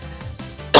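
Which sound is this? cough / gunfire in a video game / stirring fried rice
cough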